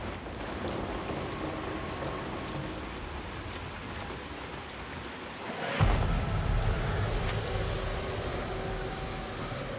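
Steady rain falls throughout a dark scene in the video game Hunt: Showdown, a dense continuous hiss, with a sudden louder surge of rushing noise midway that stays heavier to the end.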